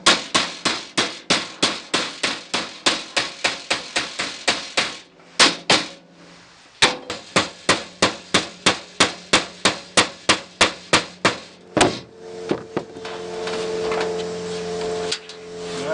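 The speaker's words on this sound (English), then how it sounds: "I have something firm to push against the door shell when I'm hammering on it" Rapid, regular hammer blows ring on the thin metal door shell of a 1967 Ford Mustang during door skin replacement, dozens of sharp strikes with a brief pause, then a steady mechanical hum toward the end.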